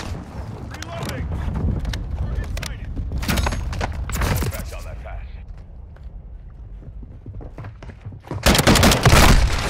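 Lachmann gunfire in Call of Duty: Modern Warfare II, bursts of rapid shots over game noise, with a loud dense burst at the end and voices talking throughout.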